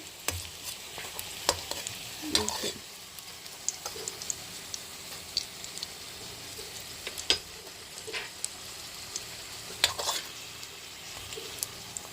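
An egg puff fries in a small amount of oil with a faint, steady sizzle, scattered with sharp little pops and clicks that stand out against the quiet background.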